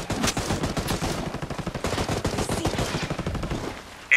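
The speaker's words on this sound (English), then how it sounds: "I hear unsuppressed enemy fire" Rapid unsuppressed enemy gunfire in Ghost Recon Breakpoint PvP, a dense loud burst of overlapping automatic shots rattling continuously for about four seconds before cutting off.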